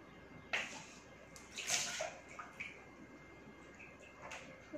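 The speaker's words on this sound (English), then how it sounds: "we can see that the water spills out from the balloon." Water spills and splashes out of a balloon into a container, several irregular wet bursts and drips at close range over a quiet background.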